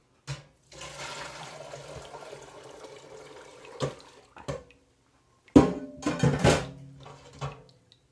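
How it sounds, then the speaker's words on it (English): Whey and cheese curds pour through a strainer with a steady trickle of liquid, then a louder, closer splash of pouring near the end. "I'm just going to run this through my strainer real quick so I get all of those curds out of here"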